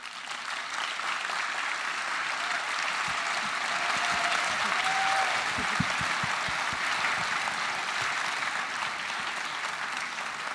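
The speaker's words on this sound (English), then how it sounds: "I want to have another applause for Sasha Alpert" A festival audience at a film screening Q&A applauds in a long, dense, steady round that stays loud and even throughout, with only faint low thumps underneath.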